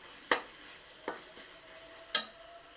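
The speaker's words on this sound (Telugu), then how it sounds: "ఒకసారి మళ్ళీ కలుపుకొని బాగా కింద మాడకుండా బాగా కలుపుకోవాలి." Ginger garlic paste fries in a pan for a fish curry under a faint, low sizzle. Three sharp, separate spatula scrapes stand out close and loud as the paste is stirred off the bottom.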